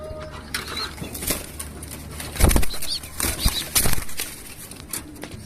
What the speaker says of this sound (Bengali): খুবই ভালো এক জোড়া কবুতর